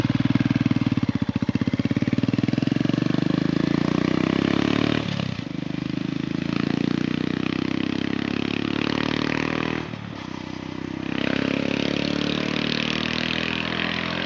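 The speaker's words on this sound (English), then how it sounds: "Those guys really made a nice exhaust for this bike." A Royal Enfield Himalayan motorcycle with a custom exhaust idles with a deep, throaty rumble, steady and loud, with brief dips where the engine note drops before settling again.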